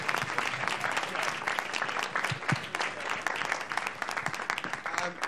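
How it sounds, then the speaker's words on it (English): Audience applause at a comedy radio show recording at the Edinburgh Fringe, a dense, continuous wash of many hands clapping throughout, with faint voices underneath. "Round of applause for James."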